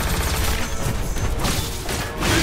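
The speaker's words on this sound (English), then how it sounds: "Proton cannon." A proton cannon special attack in Marvel vs Capcom Infinite erupts as a loud, sustained blast of booming, crashing energy with rumbling low end, swelling again near the end.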